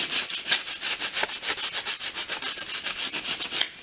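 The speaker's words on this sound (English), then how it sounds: "you can have a bit of sandpaper with you as you go in. You just get that edge with the sand" Sandpaper worked back and forth by hand over an edge of old plaster, a brisk, even run of rasping strokes about five or six per second, close and loud, with nothing else heard.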